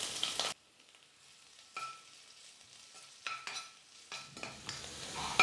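Chopped garlic and ginger hit hot oil in a kadai with a sharp burst of sizzling, then a quieter crackle broken by a few stirring scrapes.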